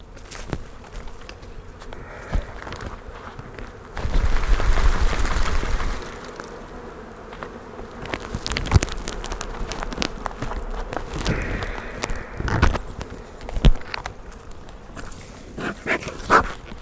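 A honeybee swarm buzzing as a hive frame is shaken during a spring swarm capture, a dense insect drone that surges loudly around the shake, then continues with thumps and handling noises.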